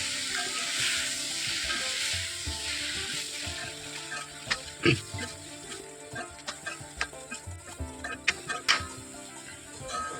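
Mixed vegetable sabzi sizzles and fries steadily in a pan while a utensil stirs it, giving soft scrapes and scattered clinks over the continuous frying hiss; no voices.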